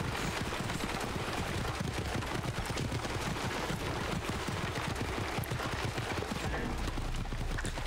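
Dense, steady clip-clop of horse hooves pulling a chariot in Assassin's Creed: Origins, with rumbling, busy game noise throughout, loud and close, no pauses.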